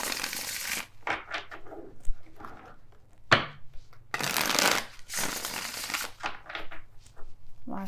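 Tarot cards shuffled by hand close up in a series of crisp riffling bursts and soft slaps, some sharp clacks between them, with no talking.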